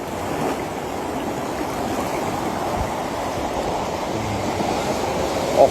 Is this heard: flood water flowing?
yes